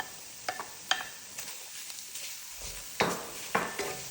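Onion added to chicken breast in a pan fries with a soft sizzle while a utensil stirs and scrapes, giving several distinct clacks and scrapes against the pan at irregular intervals.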